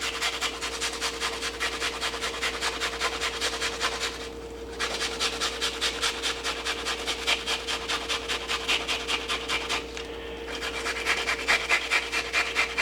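An onion grated by hand for stuffed cabbage filling, giving a steady, continuous rasping scrape in quick repeated strokes, close and fairly loud, with two brief pauses and no talking.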